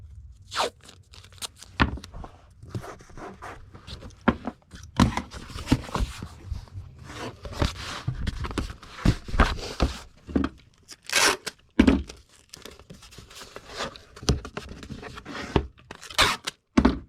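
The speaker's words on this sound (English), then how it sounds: "Tape it so it doesn't move around." Packing tape is pulled off the roll and torn in short, uneven bursts of ripping and crinkling while an eBay order is taped into a Gemini mailer, close and with no talk.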